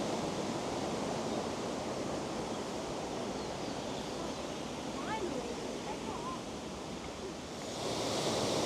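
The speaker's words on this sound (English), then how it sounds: "So this is the waterfall from the viewing station." Aira Force waterfall above Ullswater in the Lake District, heard from the viewing station as a steady, loud, broadband roar of falling water that continues unbroken and swells slightly at the end.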